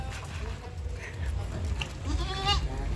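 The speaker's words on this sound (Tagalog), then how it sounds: "Naliligaw yung kambing mo." Goats bleat a few times on a farm in Nueva Ecija, wavering calls rising over steady outdoor noise and rumble, with a louder bleat near the end.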